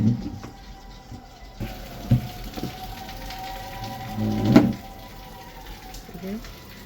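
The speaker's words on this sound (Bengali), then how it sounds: "দেখেন বৃষ্টি হইতেছে তো ঠান্ডা ঠান্ডা ভাব খুব ভালো লাগতেছে" Afternoon rain patters steadily on a village surface, a soft broadband wash with a few louder drips and knocks and a swelling gust of noise near the middle, with no one talking.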